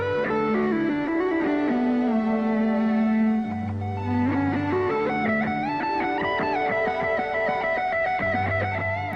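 Clean electric guitar notes with a wavering, warbling modulation effect, sustained and atmospheric, playing alone with a low note pulsing underneath.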